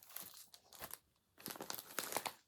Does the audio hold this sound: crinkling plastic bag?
yes